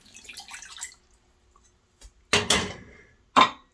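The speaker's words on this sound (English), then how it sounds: "So we're going to drop in 1 tea bag and add about half a cup of water." About half a cup of water poured onto a black tea bag for watermelon wine: a short splashing pour up close, then a brief second splash, with faint clinks and near-silence between.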